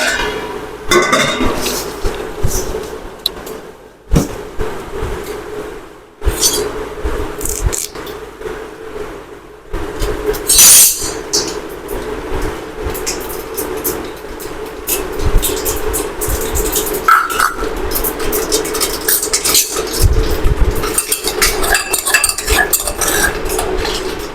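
Metal utensils clink and stir against a pan as mustard seeds, cumin and fenugreek heat in oil with paste, with a lid being set over it; steady close kitchen clatter and scraping throughout, no talk.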